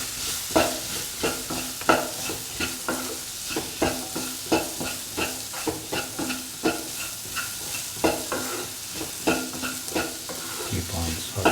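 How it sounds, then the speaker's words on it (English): Mango pieces sauté with salt in a pan, a steady sizzle broken by regular scraping and clacking spoon strokes, close and rhythmic throughout. "Keep on sauteing."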